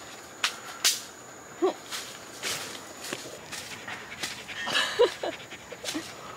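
Dogs pant and whimper faintly at a distance as they are loaded back into a car outdoors, with scattered footsteps and shuffling and a few soft, brief yelps over a quiet background hiss.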